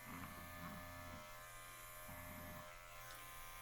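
Electric clippers buzz steadily while trimming lamb's wool padding for a custom leather guitar strap, with two louder bursts as the blades bite into the fleece, close to the microphone.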